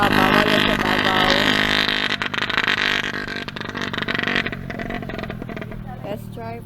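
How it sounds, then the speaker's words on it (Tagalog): A drag race car on a test drive at the Jensen drag strip in GenSan, its loud, steady engine roar holding for several seconds before easing slightly, with voices talking over it. "Test drive for the drag race."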